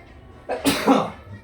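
A single sharp sneeze bursts out partway through, close and fairly loud, with quiet before and after.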